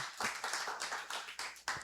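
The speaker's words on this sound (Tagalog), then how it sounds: "isa muna malakas na palakpak para kay Lord" A church audience gives a loud round of clapping for the Lord, quick uneven claps from several hands close together, with no speech over them.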